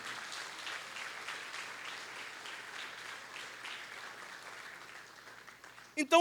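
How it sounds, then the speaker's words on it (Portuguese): Church congregation clapping during a sermon, a moderate, somewhat distant patter of many hands that gradually tapers off, with a brief sharp sound at the very end. "Dê uma salva de palmas para o Senhor"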